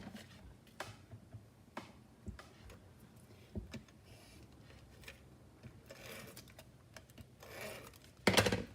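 Designer series paper strip being trimmed in a card-making class, heard as a string of faint, sharp ticks and crisp snips in a quiet room, ending in a louder rustle.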